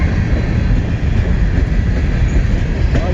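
A CSX G114 westbound freight train rolls past in Fostoria, Ohio, a loud, steady roar of wheels and cars on track, close by and continuous throughout.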